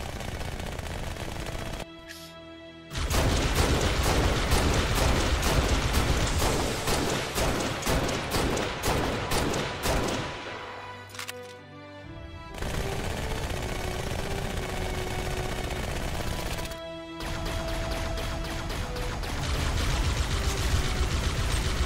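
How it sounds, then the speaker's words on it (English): Heavy gunfire and explosions in a Halo stop-motion battle scene, with long dense bursts of rapid machine-gun fire, brief pauses, then renewed sustained firing, loud and close throughout. "taking heavy fire"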